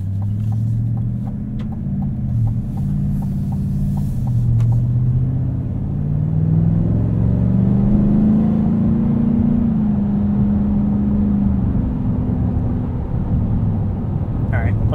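A 2024 Chevrolet Silverado 1500 High Country pickup with a 6.2-liter V8 pulls steadily in sport mode, its deep engine drone rising smoothly in pitch through the gears, heard from inside the cab.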